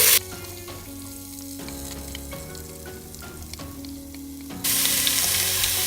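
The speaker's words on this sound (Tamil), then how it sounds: "இப்போ நம்ம வெங்காயம் வதங்கிடுச்சு" Steady close sizzling of chopped small onions frying in oil in a pan, with stirring clatter and a louder burst of hiss near the end.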